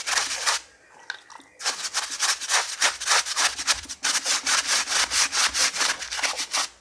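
A stiff parts brush scrubs hard on a John Deere 1640 tractor during a rear crank seal job, a brief rub and then a long run of fast, even, rasping strokes up close.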